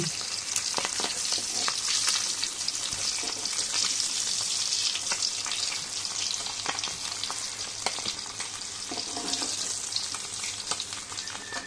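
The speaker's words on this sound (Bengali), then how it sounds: "কই মাছগুলো বন্ধুরা হালকা ভাজতে হবে, হালকা ভাজলে মাছগুলো খেতে দারুণ লাগে" Koi fish are lightly frying in hot oil in a pan, producing a loud, continuous close-up sizzle with crackles and spits that runs without a break.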